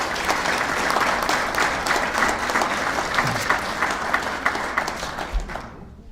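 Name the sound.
applause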